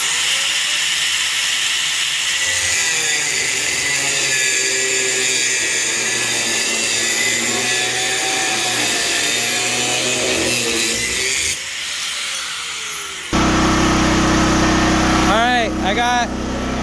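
Power tool grinding through a Harbor Freight clamp during work on 5.3 LS valve springs, a loud continuous whine and hiss that runs steadily, then shifts to a wavering, changing pitch near the end.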